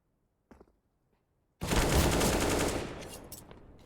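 Gunfire rings out in a Counter-Strike match on the Dust 2 map: a faint early click, then a sudden loud, sustained burst of automatic fire lasting about a second and fading into scattered echoes.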